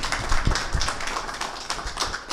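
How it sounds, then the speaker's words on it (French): Applause for Pastor Pudens Innocent at a church rehabilitation centre launch, a group clapping with distinct close individual claps over a softer background patter, irregular and moderately loud. "Un grand applaudissement à Pasteur Pudens Innocent."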